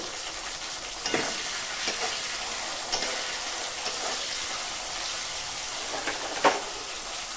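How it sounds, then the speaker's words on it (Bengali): Bitter gourd sizzles steadily in hot oil, with occasional louder crackles and scrapes as the pieces are stirred in the pan. "সামান্য পরিমাণ লবণ দিয়ে উচ্ছেটাকে ভেজে নেব।"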